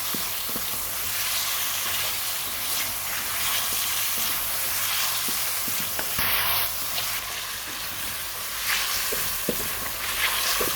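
Potato slices frying in ghee for spicy aloo katliyan, a steady close sizzle and crackle with occasional clicks of stirring running throughout.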